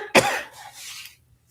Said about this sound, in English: I start coughing.